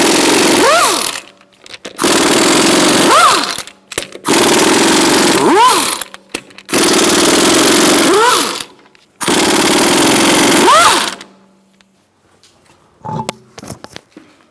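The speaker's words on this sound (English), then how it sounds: "Using a 19mm socket, we're going to remove our wheel." Four bursts of a pneumatic impact wrench with a 19mm socket loosening lug nuts on a 2012-2018 Ford Focus wheel, each loud rattling burst lasting about two seconds, separated by short pauses, then faint clicks and handling noises.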